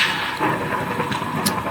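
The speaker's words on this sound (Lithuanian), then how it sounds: "Kaip žaibuoja, stipriai." A low, continuous rumble of thunder rolling through in a horror video game, with a brief sharper crackle near the end; no talking.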